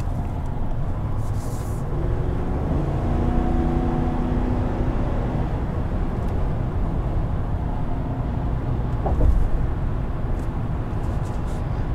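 A 2020 Chevrolet Silverado 2500 drones along at speed, a steady low engine rumble mixed with road and wind noise inside the cab, with a faint bump or clunk near the end.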